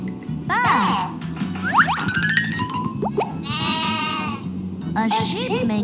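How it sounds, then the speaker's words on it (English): Sheep bleating: several wavering, nasal bleats come one after another, close, over a background of other farm animal calls and light voices. "A sheep makes a bat sound."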